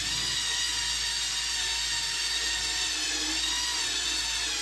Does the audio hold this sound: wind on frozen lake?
no